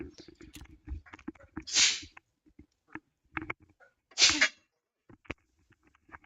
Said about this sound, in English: sorry about the sneezing, guys. Sometimes you just gotta sneeze.